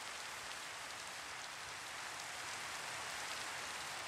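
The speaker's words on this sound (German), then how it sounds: "warum so viele Let's Player den Regen abschalten bei sich." Rain in the video game Minecraft, an even, hissing downpour that stays constant and fairly faint throughout, with no voices over it.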